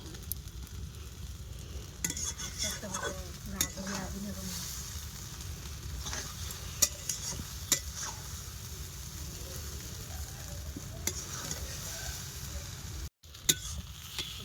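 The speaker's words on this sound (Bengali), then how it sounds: "আমার এদিকে চাউমিনটা আজকে কড়া করে ভাজছি" Chow mein frying crisply in a pan at a family New Year picnic, a soft steady sizzle with occasional stirring clicks and scrapes, and faint voices now and then.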